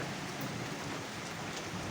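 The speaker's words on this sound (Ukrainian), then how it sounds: "О, чуєте, гримить як." A village garden sits under a steady downpour of summer rain. A low rumble of thunder blends into the dense hiss of rain, with no voices.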